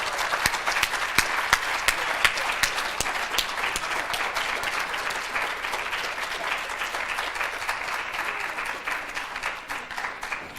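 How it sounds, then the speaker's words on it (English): An audience applauds panelists after a moderated response panel, steady dense clapping with sharp individual claps sustained for about ten seconds, moderately loud and close, tapering slightly toward the end. "Let's have a big round of applause for our panelists."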